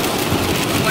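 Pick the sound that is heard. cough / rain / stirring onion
rain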